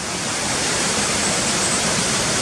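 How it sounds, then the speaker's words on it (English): Cotter Force, a waterfall near Cotterdale, roars steadily and loudly, a dense unbroken rush of falling water with no pauses or other sounds. "But it's a beautiful waterfall, as you can see. COTTER FORCE near Cotterdale."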